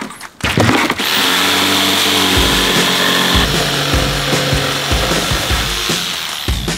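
A power saw cuts through a wooden plank while building a survival treehouse, running loudly and steadily for most of the stretch after a brief start, with no voices.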